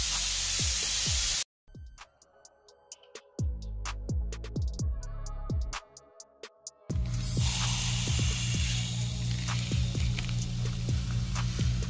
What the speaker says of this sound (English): we're gonna go ahead and take out the valve stem core. That will release the air.